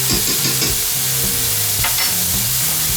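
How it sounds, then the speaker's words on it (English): A spoonful of garlic sizzles loudly in a hot pan while being stirred quickly, a continuous bright crackle with scraping strokes and no voices. "a spoonful of garlic. Put that in there. You gotta move that around pretty fast."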